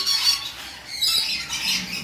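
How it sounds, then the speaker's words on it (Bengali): A pair of rainbow lorikeets at a bird breeder's aviary give shrill, raspy squawks, several close calls in quick succession over about two seconds. "এটা কি রেনবো লরি না? হ্যাঁ, রেনবো লরি।"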